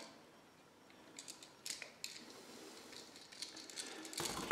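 Metal bridge tab between the hot screws of an electrical outlet being bent back and forth until it snaps off, giving faint, quiet clicks and creaks in a few short bursts, with a sharper snap near the end.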